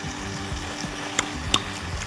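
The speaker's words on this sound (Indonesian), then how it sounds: "Kita tumis sebentar." Spaghetti with seblak-style spicy seasoning sizzles steadily in a hot pan for a couple of seconds, with two light utensil clinks against the pan over the continuous frying hiss.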